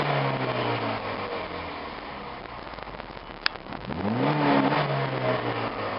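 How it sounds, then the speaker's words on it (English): A modified car engine with its intake gutted blips through a quick rev with the windows down, pitch swooping up and settling back, set against a steady rain-like wash of road and cabin noise. "here's a quick engine rev"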